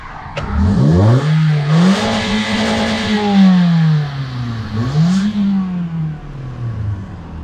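A Toyota Corolla GLI 1.6 engine revs up and holds, then dips and rises again, a loud close-up drone with a smooth, stock exhaust note and no talking.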